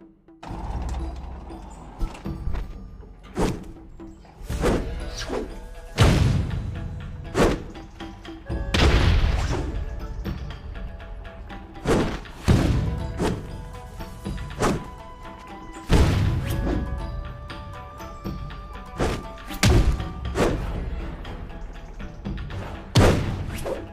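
Charged strong attacks in a Kung Fu Panda video game land as a steady series of heavy thumps and booming impacts over a continuous game backdrop, loud and close, with no voices.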